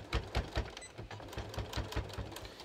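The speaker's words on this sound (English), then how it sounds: "I'm just going to stitch that down through all the layers" A domestic sewing machine stitches a V down through several fabric layers at a welt pocket, a steady run of rapid needle thumps close by with no talking.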